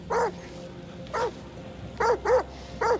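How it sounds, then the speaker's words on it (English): A dog in a horror video game barks in short, sharp yips, one near the start, one around a second in, then three more in quick succession, fairly close over a low ambient hum. "There's a dog."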